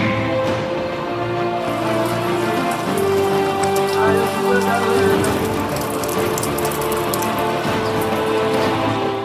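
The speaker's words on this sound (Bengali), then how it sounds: "কয়েকদিন আগে নিম্নচাপের জেরে টানা বৃষ্টি" Steady rain falls during a spell of monsoon-like low-pressure weather, a dense even patter drumming on surfaces with no let-up and no voices.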